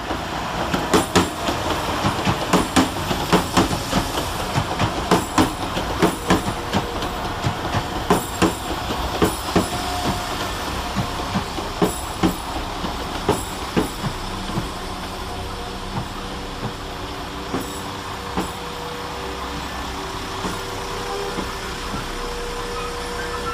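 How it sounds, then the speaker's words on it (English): Two coupled West Midlands Railway Class 172 diesel units, 172331 and 172345, arrive at Stratford-upon-Avon station on a service from Kidderminster. A continuous rumble carries a steady clickety-clack of wheels over rail joints and occasional squeals, loud and close. "Next in to terminate 11 minutes late with a West Midlands Railway service off Kidderminster"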